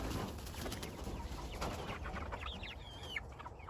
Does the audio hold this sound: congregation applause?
no